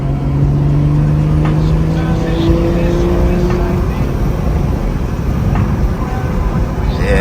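A BMW M240i fitted with a downpipe accelerates in fifth gear from inside the cabin, its engine note rising slowly as a loud, steady drone with road rumble beneath.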